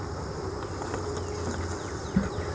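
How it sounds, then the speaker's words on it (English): A steady, low buzzing hum of honeybees active at a hive entrance on a spring morning, continuous and fairly even, with a brief soft bump near the end. "These bees are pretty active."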